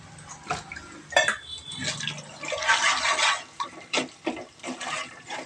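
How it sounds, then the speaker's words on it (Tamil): A green chili being squeezed and mashed by hand in tamarind water for tomato rasam, giving soft wet squelching and sloshing sounds in short irregular bursts, fairly quiet and close, with no talk. "அந்த புளி கரைச்சலில் ஒரே ஒரு பச்சை மிளகா போட்டு நல்லா அதிலே பிசைஞ்சு விட்டுறோம்"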